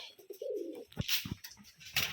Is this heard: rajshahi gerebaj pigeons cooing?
yes